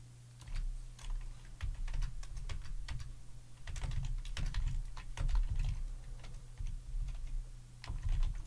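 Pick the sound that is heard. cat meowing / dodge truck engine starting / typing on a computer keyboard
typing on a computer keyboard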